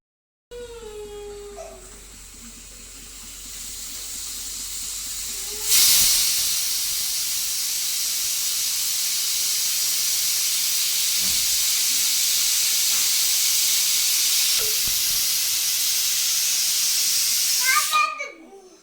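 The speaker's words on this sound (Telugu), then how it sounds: "ఇది కుక్కర్లో ఎయిర్ వెళ్ళిపోయింది మొత్తము" A pressure cooker releases a loud, continuous hiss of steam that holds for about twelve seconds before cutting off, with faint talk before it begins.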